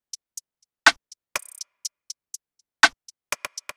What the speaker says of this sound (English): Then I added just an extra perk and another hi-hat that sounds like this.